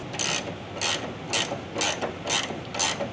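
A hand ratchet clicks in six evenly spaced bursts as a bolt on a Foxbody Mustang caster camber plate is tightened, close and loud with no talking.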